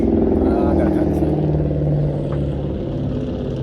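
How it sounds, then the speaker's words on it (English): A car engine passes nearby outdoors, a loud, steady low rumble with a droning hum that eases slightly toward the end, with faint voices in the background. "I like that car sound. Nice car sound."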